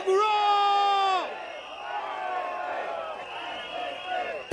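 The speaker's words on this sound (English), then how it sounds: "Everybody together. That's the crowd. Sembawang roar!" An outdoor Singapore Democratic Party election rally crowd in Sembawang shouting together in a loud, sustained roar that holds for about a second, then settles into a lower continuing crowd murmur with a sharp burst at the end.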